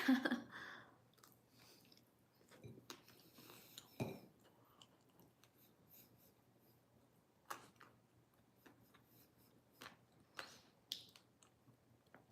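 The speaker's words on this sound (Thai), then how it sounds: "เคี้ยวดังต้องขออภัยด้วยนะคะ" Food being chewed close to the mic, quiet wet crunches and bites in irregular bursts separated by near-silent pauses.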